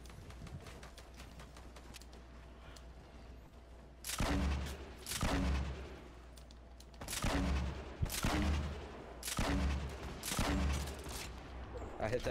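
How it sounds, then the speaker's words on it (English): Gunfire in the video game Fortnite, heard as a string of punchy shots in uneven bursts that start after a few quiet seconds and keep recurring over low background rumble. "We're both shooting at him."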